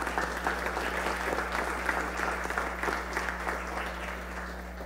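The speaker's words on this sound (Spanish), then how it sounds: "Entonces solicito por favor un aplauso a los compañeros." Steady applause from an audience during an extraordinary municipal council session in San Carlos, a continuous dense clapping that holds evenly for about five seconds over a low hum.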